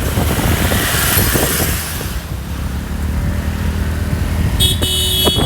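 Traffic on a mountain road at Mullayanagiri, with engines passing close and loud, a rushing vehicle sweep early on, then a steady rumble and a brief high horn-like tone near the end.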